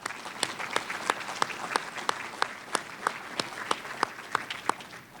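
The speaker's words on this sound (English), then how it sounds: "Let's give him a round of applause." Audience members at an awards ceremony clap in a steady, evenly spaced rhythm, with individual claps sounding moderately faint and distinct rather than forming a dense roar.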